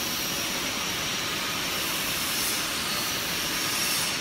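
A W-beam guardrail roll forming machine with heavy-duty stands for 5 mm steel, its gearbox driven by two motors, gives a loud, steady mechanical roar and hiss that holds unbroken throughout with no voices.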